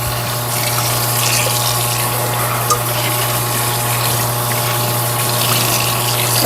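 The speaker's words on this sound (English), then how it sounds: "I'll go ahead and just rinse out this bowl" Running tap water pours steadily as a bowl is rinsed in a kitchen sink while an Easter dinner is being cooked, a continuous close gushing wash over a low steady hum, with no talking.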